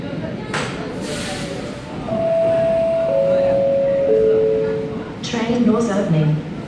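A Sydney Metro train pulls into the platform with a steady rumbling roar and rising electric whine tones, ending in hissing air and door chimes; no talking.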